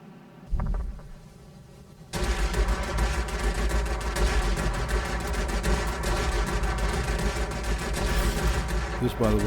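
I-260 aircraft guns firing in World of Warplanes, heard as a sustained rapid rattle of gunfire over a droning engine, starting after a brief quieter stretch and continuing without pause; someone talks over it.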